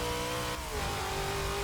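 A Plymouth Prowler V8 revs hard in Forza Motorsport 6, a loud, continuous high-pitched engine scream whose pitch holds and dips slightly midway, filling the short stretch with no talk.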